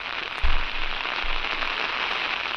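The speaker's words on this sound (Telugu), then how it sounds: "రాత్రి నుంచి ఎడతెరిపి లేకుండా వర్షాలు కురుస్తున్నాయి" Heavy cyclone rain from Cyclone Montha pours steadily as a dense, even hiss, close and loud, with a soft low thump near the start and no voices.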